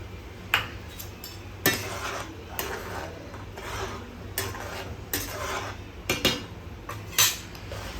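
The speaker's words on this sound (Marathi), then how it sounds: "आता आपल्याला त्यामध्ये भाजलेला रवा घालायचा आहे" Roasted semolina being poured and stirred into boiling water in a metal pot, heard as soft, faint scraping and clinking of a spoon against the pot with occasional sharper taps, close and without talk.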